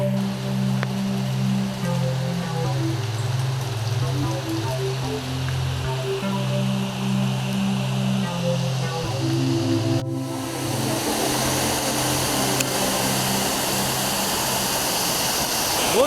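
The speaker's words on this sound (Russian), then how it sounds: "Вот такой водопад, очень большой." The Dzhurynskyi waterfall in Ukraine, a large cascade, pours in a steady broad roar that holds for the whole stretch, with tonal hum in the lows and a brighter rushing wash taking over partway through. No one speaks.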